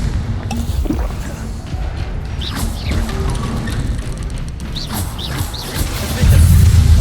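Confringo fire spell blasts from Hogwarts Legacy gameplay, a busy run of whooshing magical impacts and crashes over dense battle noise, building to a loud, heavy rumbling burst near the end.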